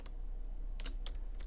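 A few quick keystrokes on a computer keyboard, a short scattered burst of clicks close up and fairly quiet, with no voice.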